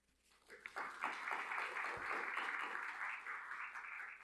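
An audience at the opening ceremony of an annual science creativity conference breaks into applause, starting faintly and swelling within a second into steady, full clapping that continues to the end.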